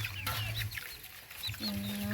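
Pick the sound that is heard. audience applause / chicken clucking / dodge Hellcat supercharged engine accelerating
chicken clucking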